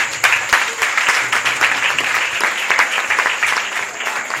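An audience in a church bursts into loud, sustained applause, many hands clapping densely and evenly throughout.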